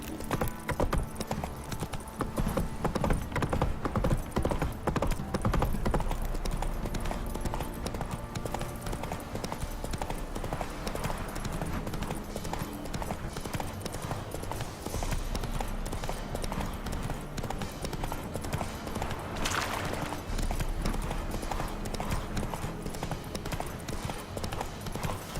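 Roach the horse galloping in The Witcher 3, a steady rapid clip-clop of hooves running continuously and loudly over a dense rumbling background, with a brief whoosh near the end.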